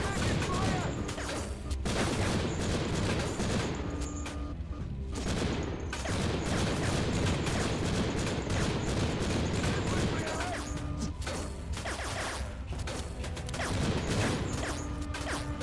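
Nearly constant gunfire fills a firefight in the GameCube game Conflict: Desert Storm, loud repeated shots and bursts with crashing impacts, with brief lulls and voices talking over it.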